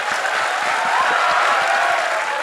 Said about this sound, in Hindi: तो बजाओ फिर एक बार तालियां जोर से